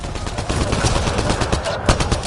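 A PS4 shooter video game firing off rapid gunfire, a dense continuous barrage of shots up close with a sharper crack near the end.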